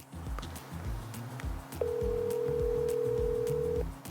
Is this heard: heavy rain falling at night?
no